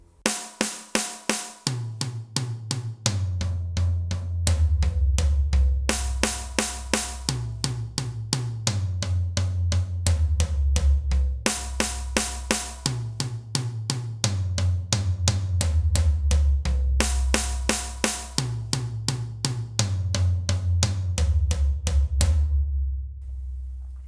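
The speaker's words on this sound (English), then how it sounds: "So we're going to play 4 notes on each drum," Drum kit played in sixteenth notes at 40 BPM, four even strokes on each drum moving around the kit from snare down to floor tom, the bar repeating several times, close and clear with no talking.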